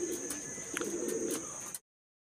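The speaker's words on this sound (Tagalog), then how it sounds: "dumating naman si Panodchalain ay 7:46 mga kalapatids" Racing pigeons coo softly at the loft on their return from a training flight, a short, low, nearby murmur of cooing under a steady high background whine, ending abruptly.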